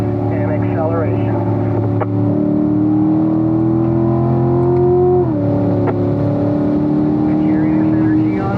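A 2017 Corvette Stingray C7 Z51 accelerates out of a corner on the Spring Mountain track, its engine drone loud and close and rising steadily in pitch, with a brief upshift dip before the note climbs again.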